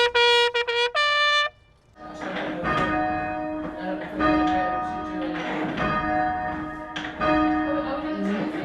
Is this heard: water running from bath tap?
no